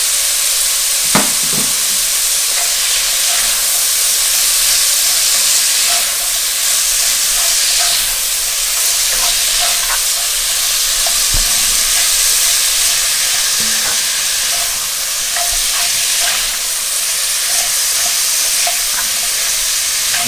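An ingredient roasting in a soup pot for chicken and white bean soup makes a loud, continuous hissing sizzle with intermittent scraping stirs and small clicks throughout, near and steady with no speech.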